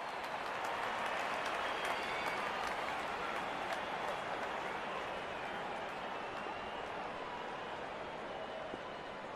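A large stadium crowd in the Real Cricket 22 video game keeps up steady, dense applause and cheering, a continuous even roar with no pauses.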